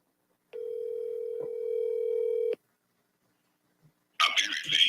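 A single steady electronic phone tone rings for about two seconds as a call goes unanswered, then stops, followed by silence and a muffled voice starting the voicemail greeting.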